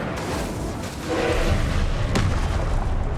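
A low booming Incendio fire spell blast in Hogwarts Legacy, a dense rumbling roar that swells and holds steady, with no talking.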